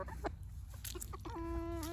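Backyard hens in a coop and run give scattered short clucks and chirps, then one hen lets out a drawn-out, wavering cackle near the end, all over a steady low background rumble.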